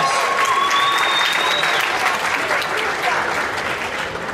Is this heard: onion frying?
no